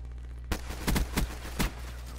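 A handful of sharp gunshots from a new gun in Black Ops 3 crack out close by in an uneven cluster, four or five reports over about a second, with no talking.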